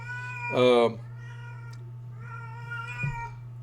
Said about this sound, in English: Y'all hear that cat?